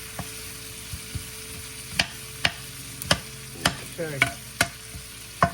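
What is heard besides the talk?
onions frying in a pan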